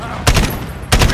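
Gunfire in the Call of Duty Modern Warfare campaign: two loud, sharp bursts of rapid shots, close by, separated by a short lull with background game ambience.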